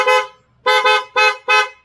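Aftermarket PIAA horn fitted to a Yamaha NMAX V2 scooter, blasting four loud, close, bright honks: one short toot, a pause, then a double toot and a final single toot.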